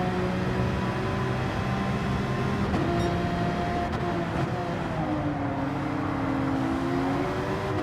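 Porsche racing car engine at full throttle on a lap of Brands Hatch circuit, a loud, steady near drone with shifting harmonic pitch as revs rise and fall, a brief gear-change dip midway, no talk.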